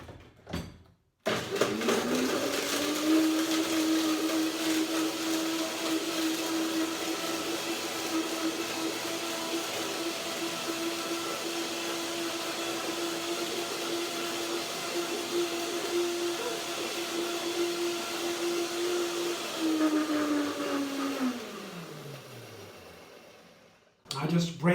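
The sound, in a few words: blender blending nuts and dates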